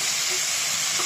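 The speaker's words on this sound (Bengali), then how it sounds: "এটাকে ভালো করে কষিয়ে নেব।" Beef tongue with cumin sautés in a pan, making a brief, dense, close sizzle that holds steady from start to finish.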